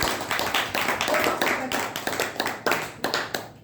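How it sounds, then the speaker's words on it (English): A round of applause at a Toastmasters club meeting in Bangalore: a crowd clapping steadily and fairly close, with the claps thinning toward the end and some voices mixed in. "Let's give a big round of applause."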